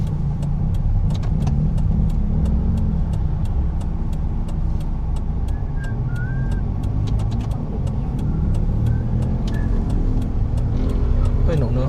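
A car rolls slowly into a parking area, a steady low engine rumble running throughout with faint clicking of a turn signal, while people talk in the cabin.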